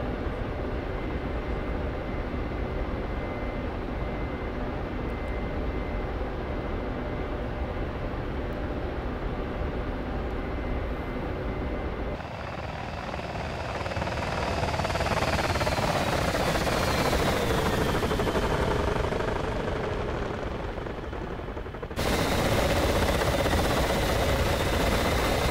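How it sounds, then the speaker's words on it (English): Ka-50 Black Shark coaxial helicopter in the DCS flight simulator, a continuous loud turbine and rotor drone that shifts in pitch and tone partway through, with abrupt changes in character, no voices. "Beautiful chopper."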